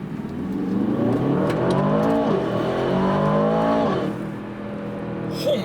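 A 2023 Aston Martin DBX 707 SUV in sports mode accelerates hard from inside the cabin, its engine note climbing through gears with brief dips at the shifts before easing off into a quieter cruise.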